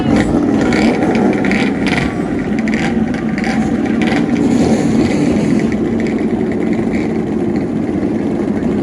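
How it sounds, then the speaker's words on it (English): Loud, steady engine roar with rough revving and rumble from several modified racing snowmobiles starting at the Soo I-500 race, running together without a break. "Riders, start your engine!"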